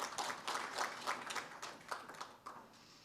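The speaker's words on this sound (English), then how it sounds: "So all the sponsors, they deserve a big applause and big thanks." Quiet, scattered clapping from an audience at an engineers' foundation day award ceremony, a brief patter of hands that thins out toward the end.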